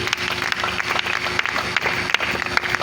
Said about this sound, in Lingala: si on peut aussi acclamer pour le corps académique